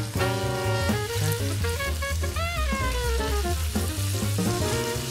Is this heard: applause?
no